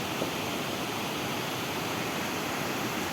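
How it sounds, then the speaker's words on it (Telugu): Water rushing down a drop on the Erra canal near Kongu Vari Gudem, a steady, loud, broadband roar like a waterfall that holds unbroken for the whole stretch with no voices. "చూడండి వాటర్ కిందకి ఎలా వస్తుందో"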